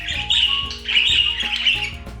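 A pet budgie chirps and warbles in quick, bright bursts close by, the calls rising and falling in a continuous chattering run.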